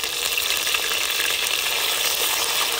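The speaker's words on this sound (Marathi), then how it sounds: "आता आपण मोहरी टाकून घेऊ. जिरे, आलं लसूण हिरवी मिरचीची पेस्ट." Mustard seeds, cumin and ginger-garlic-green chili paste sizzling in hot oil for papad bhaji, a steady loud crackling fry throughout with no pauses.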